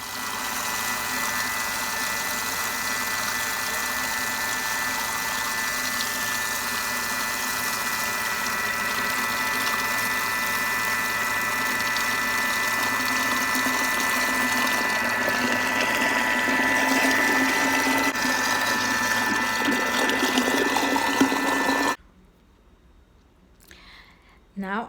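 Kitchen mixing machine running steadily at speed 4 while sugar and eggs go in, a continuous loud whirring motor hum lasting over twenty seconds before cutting off abruptly.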